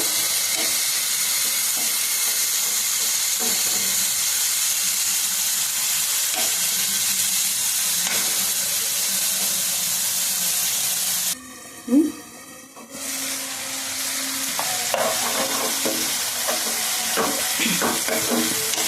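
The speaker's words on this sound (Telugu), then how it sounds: "ఇదిగోండి టమాటాలు అయితే వేగుతున్నాయి" Tomatoes and tamarind frying in a pan for a Telugu tomato green chili chutney, a steady close sizzle with occasional stirring clicks and a short interruption partway through.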